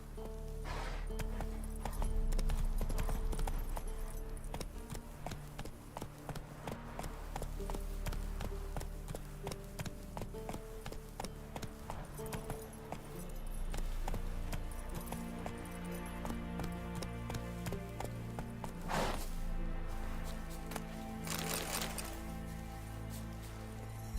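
Roach, a horse in The Witcher 3, gallops in steady clip-clopping hoofbeats layered under continuous game music, with no speech over the top.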